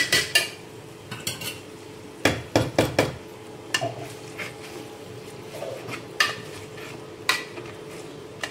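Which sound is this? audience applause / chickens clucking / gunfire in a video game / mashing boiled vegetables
mashing boiled vegetables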